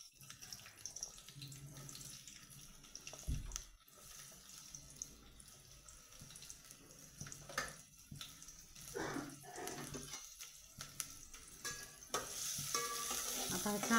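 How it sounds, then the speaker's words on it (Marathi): Chopped onion drops into hot oil in a pot for a Satara-style chicken curry, sizzling and frying with stirring and clattering, and a rising hiss toward the end. "आता ह्या तेलामध्ये मी थोडासा हा चिरलेला कांदा टाकणार आहे।"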